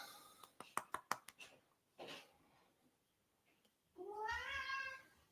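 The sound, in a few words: orange cat meowing while being held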